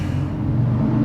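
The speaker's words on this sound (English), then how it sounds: "or more probably a fast motorcycle, based on how loud and obnoxious that is" A loud, fast vehicle, probably a motorcycle, roars past outside during a gaming stream, a low rumbling engine drone that swells briefly without any talk over it.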